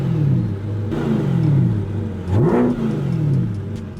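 A fully loaded car with every available option revs its engine, a steady close rumble that swells twice in rising blips of revving.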